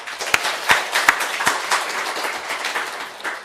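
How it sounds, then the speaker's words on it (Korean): Church congregation clapping hands together in a sanctuary during a deacons' seminar, a steady burst of applause with a few sharp, distinct claps standing out near the start, moderately loud and without talk. "박수 한번 치세요."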